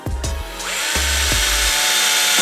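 A small power driver spins screws into a Yokomo YD-2S Plus RC car transmission, several short whirring bursts separated by brief pauses, then a sustained run near the end, close and fairly loud.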